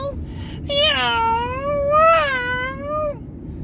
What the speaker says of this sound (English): cats meowing in the middle of the night